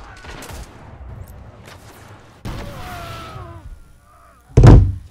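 A game controller set down hard during a Destiny match gives one loud, close thump near the end, after a stretch of quieter game sound and brief talk.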